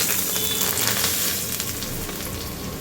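Hot garlic and cumin tadka sizzles as it is stirred into a village-style onion palya, a steady bright frying hiss with soft scraping, close and continuous throughout.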